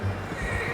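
A horse in Red Dead Redemption 2 lets out a short, close whinny with hoof clops underneath, brief and fairly loud.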